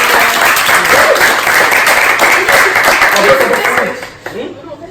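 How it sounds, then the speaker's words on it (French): Loud, dense audience applause on a studio talk show, holding steady before trailing off into a few scattered claps at the end. "Je pense qu'on peut applaudir pour ça."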